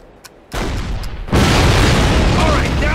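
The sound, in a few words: cannon explosion in the video game Call of Duty (2003)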